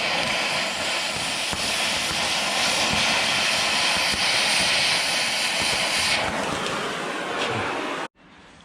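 Torch flame burning on a rusted bolt with a captive nut during a van front suspension overhaul, a loud continuous roaring hiss that holds steady, then cuts off abruptly near the end.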